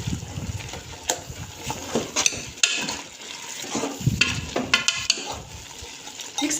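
A spoon stirs onions into boiling minced keema in a pot, with irregular scraping and bubbling sizzle, close and moderately loud.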